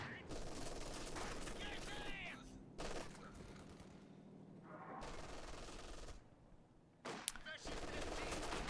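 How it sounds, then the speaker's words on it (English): Gunfire from the real-time strategy game Company of Heroes 2 crackles in repeated rapid machine-gun bursts, broken by short pauses, with one sharp crack standing out near the end. "Catty is opening fire on the Grenadier in the north."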